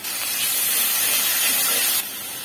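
Onion, cumin and garlic paste sizzles loudly in hot oil for a Bengali tangra fish curry. A strong, steady hiss carries on for about two seconds, then drops to a quieter sizzle. No one speaks.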